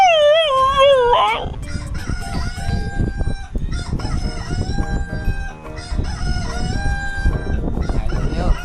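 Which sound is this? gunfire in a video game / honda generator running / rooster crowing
rooster crowing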